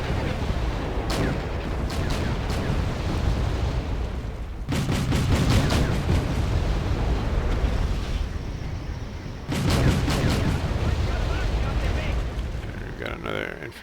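Missile launches and explosions in the Wargame European Escalation video game, with an M1 in play, come as heavy booming bursts that fire in rapid cracking volleys, then rumble on under noisy battle ambience while a player talks.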